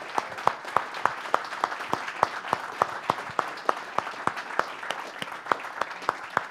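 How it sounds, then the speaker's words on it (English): A small audience gives a steady round of applause at a holiday gathering, individual sharp claps clearly audible in an even, moderately paced rhythm throughout, close and fairly loud with no talking over it. "Give yourself a round of applause."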